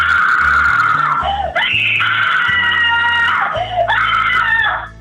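A woman screams loudly in a kitchen after opening the refrigerator: two long, shrill, sustained shrieks with a brief break between them, heard close with speech over them.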